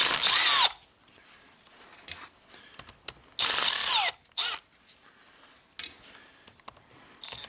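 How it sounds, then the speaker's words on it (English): A power tool zipping nuts off the perimeter of an army truck alternator, heard as several loud close whirring bursts of about a second each, separated by pauses filled with small clicks and handling noises. "I'm going to unscrew the little nuts around the perimeter."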